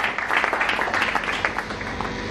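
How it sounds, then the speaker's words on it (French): Church congregation applauding loudly during a French-language sermon, a dense, steady wash of clapping with a few sharper claps poking out, filling the whole moment without a pause. "Acclame, très fort"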